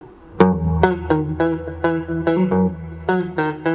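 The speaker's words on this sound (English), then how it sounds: "I added just a bit of wobble, a bit of distortion and a bit of space" A guitar-like tone with added wobble and distortion effects plays a repeated series of sharp plucked notes, steady and fairly loud, with a roomy, reverberant tail.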